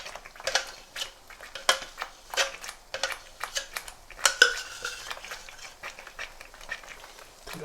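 A small spoon scrapes and taps against a pan to collect spiced oil for a royal Mughal paneer curry, with rapid irregular metallic scrapes and clinks up close.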